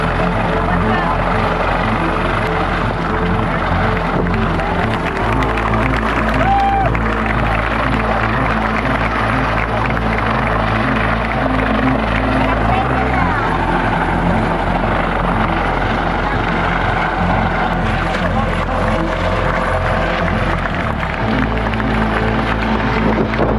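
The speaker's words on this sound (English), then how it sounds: "Guard helicopter rescue in the middle of the ocean from Carnival Sensation ship." A Coast Guard rescue helicopter hovers over the open ocean beside the Carnival Sensation cruise ship during a medical airlift, its rotor chop and turbine whine loud and continuous throughout, with faint crowd noise beneath.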